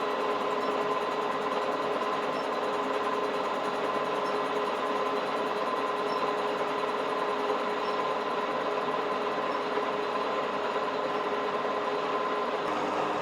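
A crankshaft lathe cutting a crankshaft in an engine workshop gives a steady, continuous machining hum with a fine metallic whine, the blade catching slightly on an uneven surface, running alone throughout.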